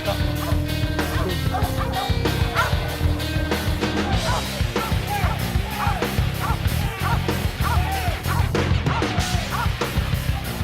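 Protection dog in training, yipping, barking and whimpering excitedly over a busy background, with people talking in the mix throughout.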